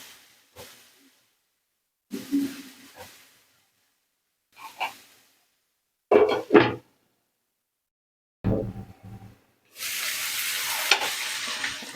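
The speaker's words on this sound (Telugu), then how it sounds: "బాగా ఫ్రై చేసుకోవాలండి." Chopped onions and red tomatoes frying in a pan for pav bhaji make short, separate bursts of sizzling and stirring broken by silence, then a loud, steady sizzle that continues to the end.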